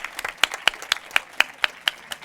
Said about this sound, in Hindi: चलिए, और अब जोरदार तालियां, लगातार तालियां।